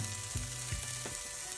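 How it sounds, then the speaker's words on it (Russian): Thin corn flour pancake batter sizzles in a frying pan with a steady, close hiss, broken by a few soft scraping knocks. "И жарим примерно минуту 2."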